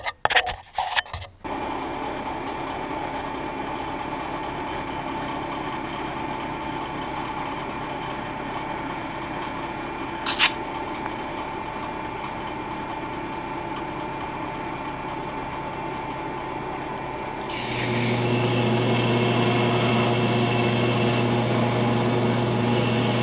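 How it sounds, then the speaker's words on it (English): A wooden awl handle spins on a lathe while sandpaper smooths it: a steady motor hum with a soft rubbing hiss, a few knocks at the start, a brief click, then a louder, higher rubbing whine near the end. "So now I'm just going to use some sandpaper and really smooth this out"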